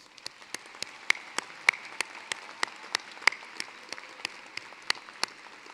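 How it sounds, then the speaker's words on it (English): Audience applause at a winter university commencement ceremony, a steady wash of many hands clapping with sharp individual claps popping out, sustained and fairly loud throughout with no talking over it. "Please join me in a round of applause."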